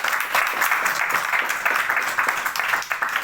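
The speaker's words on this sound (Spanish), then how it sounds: "Pido un aplauso para Marta." Listeners at a literature and beer colloquium clap for the author Marta, a brisk, full burst of many hands clapping throughout.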